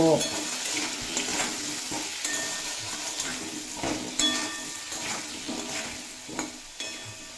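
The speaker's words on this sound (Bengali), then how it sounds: "স্বাদ মতো লবণ আর পরিমাণ মতো হলুদের গুঁড়ো দিয়ে খুব ভালোভাবে ভেজে নেব" Taro pieces frying with salt and turmeric in a pan, a dense, loud, continuous sizzle with spatula stirs and scrapes running through it, close up.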